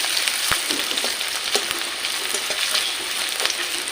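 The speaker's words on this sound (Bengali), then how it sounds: "দিয়ে দিব পেঁয়াজ কুচি, হালকা আছে, আমি অল্প আছে ভেজে নেব" Chopped onion sizzling steadily in a pan for a mutton curry, with occasional scrapes and taps of a stirring spoon, close and without talk.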